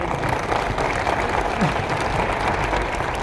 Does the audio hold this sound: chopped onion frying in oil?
no